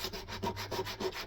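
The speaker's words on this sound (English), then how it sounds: "we'll probably come over with a mouse sander or a good bit of sandpaper" A mouse sander rubs over routed plywood in a steady rhythmic back-and-forth scrub, close and even, with no voices.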